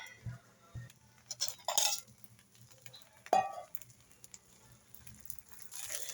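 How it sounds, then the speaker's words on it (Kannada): Clinks and knocks of a plate being set over a dosa pan as a lid, a few sharp metallic chinks alone and fairly close, with faint kitchen sizzle beneath. "ನೋಡಿ ಈಗ ಒಂದು ತಟ್ಟೆ ಮುಚ್ಚೋಣ"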